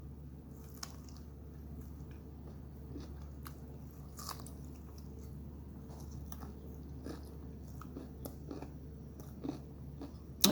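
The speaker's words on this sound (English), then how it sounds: "You hear that crunch?" Quiet, close crunching and chewing of crisp food, irregular bites repeating steadily over a low background hum.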